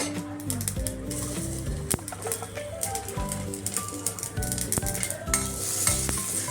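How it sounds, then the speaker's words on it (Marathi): Garlic sizzles steadily in oil in a wok while a utensil stirs and scrapes, with clinking metal taps scattered throughout. "लसूण थोडा भाजून झाला की मग कांदा घालूया"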